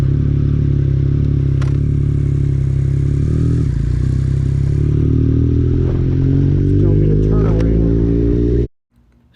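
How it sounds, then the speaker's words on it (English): A 2021 Yamaha MT-09 motorcycle runs loud and close, its engine note climbing as the rider pulls away, with clatter and scraping handling noises over the top before the sound cuts off abruptly. "Get the bike started up and start heading that way."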